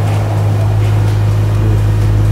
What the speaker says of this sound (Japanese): バルブが開いた状態でアイドリングはこれぐらいの音ですね